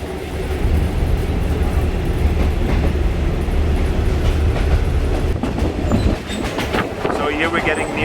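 A passenger train in Bangkok rumbles steadily along the rails near Bang Sue station, loud and close, with clacking wheels and some higher squeals near the end.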